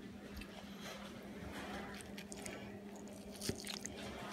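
Crunchy croutons in a turkey salad with Swiss and cheddar cheese are chewed close to the mic, a soft ongoing series of bites and crunches with one sharper crack near the end, quiet overall.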